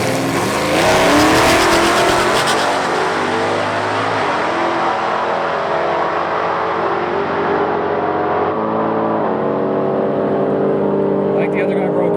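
Cars at a drag strip, including an old pickup truck and a twin-turbo Malibu, rev and accelerate hard, a loud continuous engine roar with shifting pitch that sweeps up and down over several seconds, with crowd noise and talk beneath.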